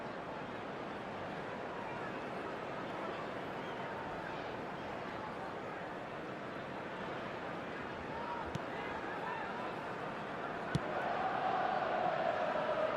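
Stadium crowd in the eFootball video game during a Manchester United match, a continuous broad roar of cheering that holds steady and swells slightly near the end.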